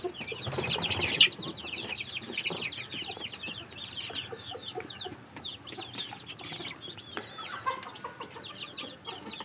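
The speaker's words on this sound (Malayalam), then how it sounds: "ബാക്കിയെല്ലാം തനി നാടൻ കോഴികളാണ്." A crowd of native country chicken chicks, kept for sale near Neyyattinkara, Thiruvananthapuram, cheep continuously in rapid, overlapping high chirps, close and steady throughout, with no talking.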